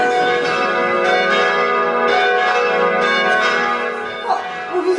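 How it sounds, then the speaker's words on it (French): Church bells rung by the village priest peal loudly and continuously, their layered ringing tones sustained throughout with a slight dip near the end. "Oh, vous entendez? C'est le curé Blanchard qui fait sonner les cloches"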